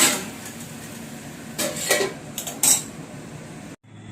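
Masala for a vegetarian pointed gourd and soy chunk curry stirred in a pot, a low background sizzle broken by a few sharp metallic scrapes and clanks, then a lid set down before a short drop-out.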